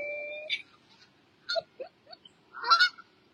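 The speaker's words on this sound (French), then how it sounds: "C'est des très grands oiseaux." Large birds, goose-like, honk in several separate bursts against a quiet background, with short pauses between calls and a louder cluster of honks near the end.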